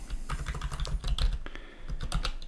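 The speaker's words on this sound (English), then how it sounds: "And what you can type in now is /settings" Rapid keystrokes on a computer keyboard as a slash command is typed, a quick uneven run of close, crisp clicks with no talking.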